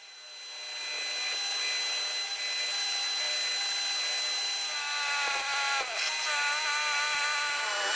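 A Forstner bit drills out a mortise in reclaimed Douglas fir, making a steady high whine that runs continuously after a brief quiet start, with a few small shifts in pitch near the end.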